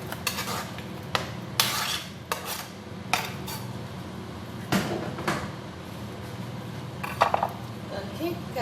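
Chicken being added to a cooking pot, with clanks of a utensil and pot, metallic taps and a few sharp knocks spread across the clip while a person talks over it.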